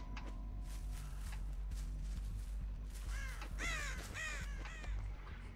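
Crows caw in the Dead by Daylight video game, several harsh calls in quick succession over a low steady background hum, fairly close and clear, with no talking.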